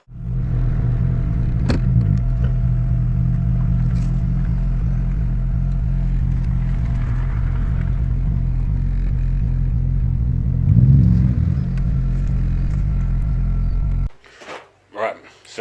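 A car engine runs steadily as cars are moved around a workshop, a constant low rumble with a brief revving swell before it cuts off, with a voice talking over it.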